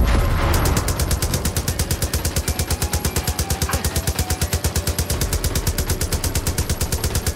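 Rapid automatic gunfire in Far Cry 5 rattles in a fast, even stream of loud shots lasting several seconds after a brief noisy opening.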